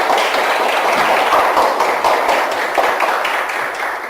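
Church congregation at a Sunday morning service clapping together, a dense, rapid patter of many hands close by that holds steady and then eases slightly.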